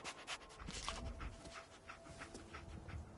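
Dogmeat, the German Shepherd companion in Fallout 4, pants rapidly and steadily nearby in an even rhythmic breath pattern, with soft game ambience beneath and no talking.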